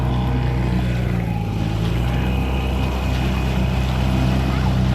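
A 1960 Johnson 5.5 HP outboard motor runs on the water with a loud, steady low drone that holds unbroken throughout, close by.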